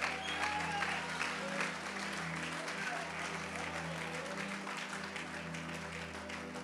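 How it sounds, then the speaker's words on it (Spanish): Church congregation claps in praise during a Spanish-language service, a continuous wash of applause over a low steady hum, moderately loud and sustained. "dale un fuerte aplauso a Dios"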